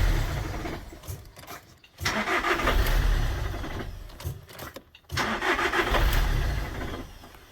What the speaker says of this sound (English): the car was firing and then shutting back off